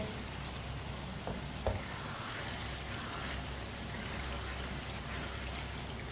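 Potato and eggplant sabzi frying in a pan, a steady close sizzle that hisses evenly throughout, with a few soft knocks as the mixture is stirred.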